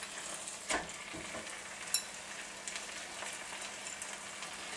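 Grated paneer is stirred into frying masala in a pan, producing a soft steady sizzle under a few scraping spoon strokes and light knocks, close but fairly quiet.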